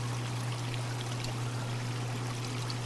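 Water pours steadily from the output of an Aqua Clear aquarium filter, making a constant splashing trickle over a low steady hum, close and unbroken.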